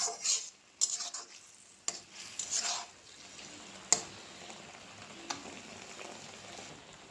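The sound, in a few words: stirring food in a cooking pot so it does not stick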